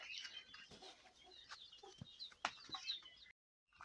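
Ducklings and poultry run around a farmyard, with steady close clucking and chirping calls before everything suddenly cuts to silence.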